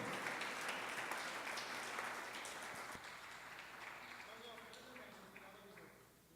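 A church congregation applauds Jesus Christ during a live Spanish-language service, sustained clapping from a crowd that slowly fades while voices carry on underneath.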